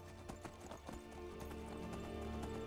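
Horse hooves clip-clopping at a walk in the Skyrim video game, a steady run of moderately close hoof falls over a continuous low game ambience.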